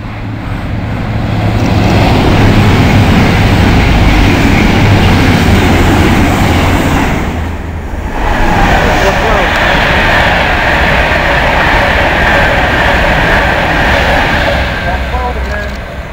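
Class 91 locomotive 91112 passing northbound at Nuneaton, a loud close rushing roar of the train sweeping by with rail rumble, with voices talking in the background.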